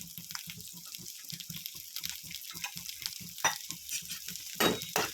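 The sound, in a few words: sautéing shallots and garlic in a pan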